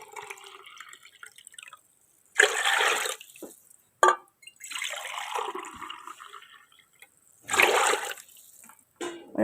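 Glasses of water are poured into a pot for Bannu beef yakhni pulao, with three loud gushing pours separated by quieter trickles and splashes, no speech over them.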